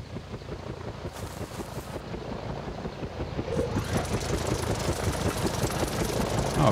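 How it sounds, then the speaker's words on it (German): A helicopter flying in within the video game Prehistoric Hunt, a steady rapid engine and rotor drone that grows louder partway through, with wind-like noise over it. "Da kommt jetzt ein Helikopter geflogen."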